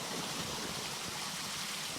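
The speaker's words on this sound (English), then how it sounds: "We've got the NRG waterfall. It's looking amazing." Water pours steadily down a pond waterfall at a pond college, a dense, even rushing wash with no pauses or voices.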